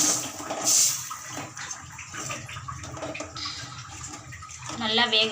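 Water pours steadily into a cooking pan of eggplant with a hissing splash, under a background of muffled voices and kitchen clatter.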